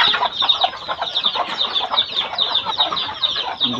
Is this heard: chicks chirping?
yes